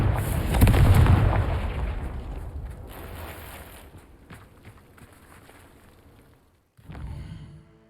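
A Confringo spell explosion in the Hogwarts Legacy video game gives a loud, close boom that rumbles away over several seconds, followed by a second, smaller blast near the end.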